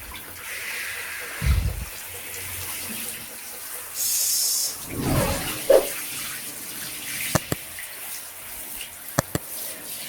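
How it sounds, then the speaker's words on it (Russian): Running tap water during a bath for a small dog with shampoo, with splashing bursts, a longer hissing stream and a few sharp drips or knocks near the end. "Всю грязьку твою смыли шампунькой."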